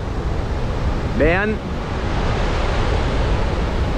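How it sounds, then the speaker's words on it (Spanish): Broad steady roar of the Salto La Llovizna waterfall on the Caroní river near Puerto Ordaz, constant throughout, with a brief spoken word over it. "esta caída de agua, el salto La Llovizna. Aquí desemboca el río Caroní"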